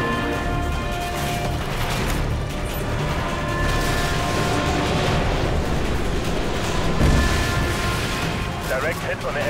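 Rumbling explosive din from a missile strike on an enemy helicopter in the military shooter Modern Warfare 2, a loud continuous roar of blasts and mechanical noise with no clear gaps, with voices talking over it.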